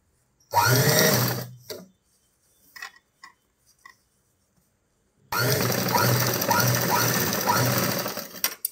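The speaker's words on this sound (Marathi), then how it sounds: "आता याला आपण अशी प्रेस शिलाई देऊ" Sewing machine stitching a press seam on a boat-neck princess-cut blouse, running loud and close in two bursts with a quiet gap of small clicks and handling between them.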